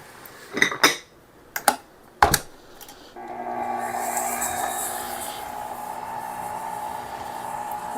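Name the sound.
creaming sugar and butter together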